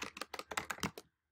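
Typing on a computer keyboard to fill in form fields, about nine quick crisp key clicks in an even run, close and fairly quiet, then silence.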